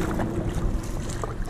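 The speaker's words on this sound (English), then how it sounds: "the bridge, it's open when it's the boat's coming through" A boat passes through an open highway 163 drawbridge near Sunny Isles, making a steady broadband rumble of engine and water wash, mixed with wind noise on the microphone and holding at an even level throughout.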